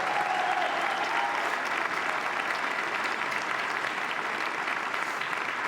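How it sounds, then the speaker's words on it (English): A tennis crowd at the 2020 Roland-Garros men's quarter-final, Schwartzman vs Thiem, applauds a player in a loud, dense, steady roar of clapping that fills the stands without a break. "Je pense vraiment qu'on peut encore l'applaudir pour cette performance."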